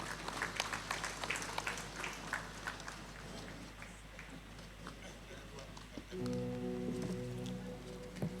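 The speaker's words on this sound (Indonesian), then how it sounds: "Mari kami tepuk tangan untuk Tuhan" Applause from a gathering at the inauguration of a prayer house in Sentani, Papua: scattered clapping with voices over it, which gives way to a sustained musical tone.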